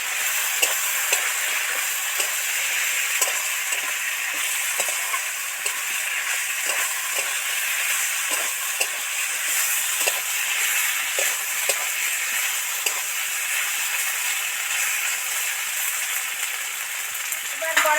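Steady stirring and mixing of thor bori khara, a traditional Bengali dish of banana stem and lentil dumplings, in a hot pan: continuous frying sizzle throughout, with regular soft scrapes and clicks of the spoon against the pan, close and fairly loud.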